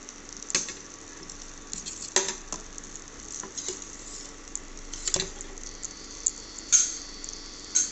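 Food fries in butter with a steady close sizzle, punctuated by occasional scraping and clinking as it is stirred in the pan, and no voices present.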